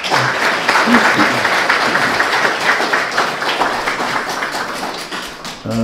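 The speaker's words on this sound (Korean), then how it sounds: "자, 선생님 큰 박수 다시 한번 부탁합니다." A lecture audience at a civic education talk by a poet applauds steadily for several seconds, a dense close wash of clapping that fades slightly near the end before a voice briefly returns.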